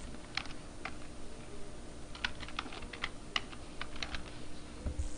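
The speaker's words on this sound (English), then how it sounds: "go ahead and type your username and password in here" Username and password typed on a computer keyboard, a quiet run of light, irregular key clicks in small bursts over a faint steady background hum.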